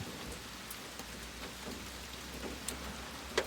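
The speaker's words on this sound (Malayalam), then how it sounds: "ഇന്നിപ്പോ രാവിലെ തന്നെ മഴയുണ്ട്" Steady rain pattering on a car while driving, with scattered louder drops and a low rumble underneath, no voices.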